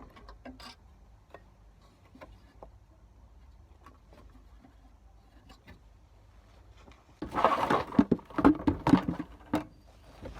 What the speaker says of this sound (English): we need a screwdriver to get in and just pry it apart